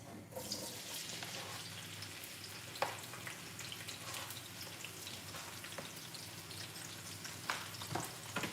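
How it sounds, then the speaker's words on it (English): Onions frying in hot oil in a pot, a faint, even crackling sizzle like light rain with occasional pops, quiet and steady throughout, no voices. "wait for the oil to get hot, and then we'll just start adding the onions inside the pot"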